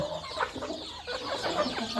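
Hens on a country chicken farm cluck in repeated short bursts, close by, with soft background farmyard noise and no talking.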